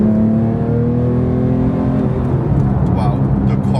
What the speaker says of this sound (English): Wow, the car goes right after, super quick and very, very practical.